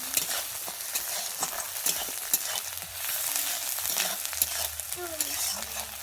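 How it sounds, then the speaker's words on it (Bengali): Onions for a fish roe curry hiss and crackle in a pan, punctuated by sharp clicking scrapes from a spoon stirring at an uneven rhythm. "আমি পেঁয়াজটাকে ভালোভাবে ভেজে নেব"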